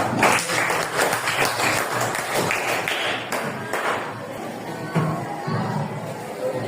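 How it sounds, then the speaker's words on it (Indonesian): A classroom of students applauds for a presenting group, a dense, steady patter of many hands clapping at close range that carries on for several seconds with a few louder taps mixed in. "beri aplaus meriah kepada kelompok 2"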